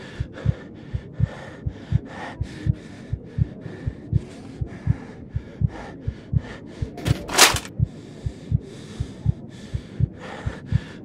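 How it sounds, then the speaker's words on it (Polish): A Blind Legend, a video game, plays a steady, quickening heartbeat that pulses loud and close for about eleven seconds, with a brief burst of noise partway through and no talking. "Serce bije coraz szybciej."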